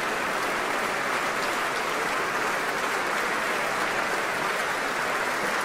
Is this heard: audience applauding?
yes